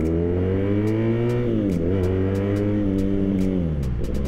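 BMW R nineT motorcycle with a 110-horsepower boxer engine pulls hard, its deep, throbbing exhaust note dipping and climbing through a couple of gear changes, loud and continuous with no talking.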